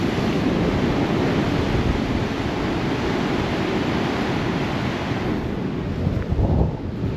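Storm waves pound the seafront at Dawlish during Storm Nelson, a continuous loud roar of crashing surf and spray with wind buffeting the microphone throughout.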